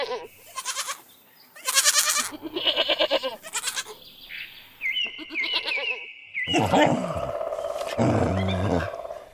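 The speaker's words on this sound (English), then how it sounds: "Goat." A farm goat bleats in a run of loud, close, wavering calls with short gaps between them, some harsh and nasal, others higher and strained, with no talking.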